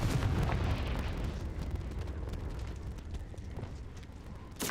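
Confringo fire spell explosion in the Hogwarts Legacy video game, a burst of fiery blast noise that fades into a lingering rumble, with a sharp second crack right at the end; no talking.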